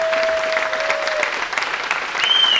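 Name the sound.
applause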